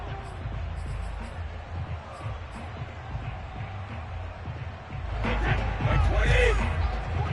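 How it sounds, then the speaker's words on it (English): A stadium crowd at an American football game shouts and roars while watching a replay, the noise swelling louder toward the end beneath a commentator's voice. "Plenty of shouts from this crowd as they watch the replay."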